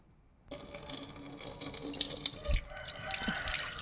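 Tap water starts abruptly and runs steadily into a sink while a plate is washed, with splashing and clinks of dishware over the flow, close and moderately loud.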